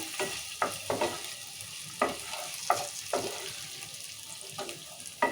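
Tomatoes and onions fry in a pan for wheat rava upma, with a low sizzle under a series of sharp scraping stirs, each a few seconds apart.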